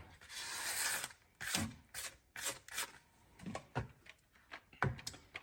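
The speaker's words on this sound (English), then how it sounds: "Now I'm going to scrape the sides of this bowl" A spatula scrapes around the sides of a mixing bowl of lemon muffin batter, giving a series of close, uneven scraping strokes with short pauses between them.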